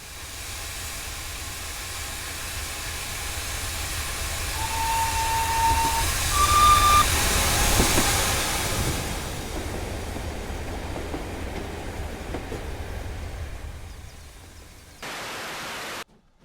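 The simulated LNWR 3020 Cornwall steam locomotive of 1847 runs along the line in Train Simulator Classic, giving a steady rolling rumble and hiss that builds toward the middle, brings a brief whistle-like tone, then fades and cuts off near the end.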